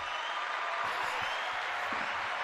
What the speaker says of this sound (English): Love the applause.